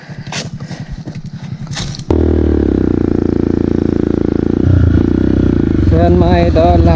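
Motorcycle engine running loud and close on a steep trail, a steady throbbing idle with slight revving toward the end, after a few seconds of people talking.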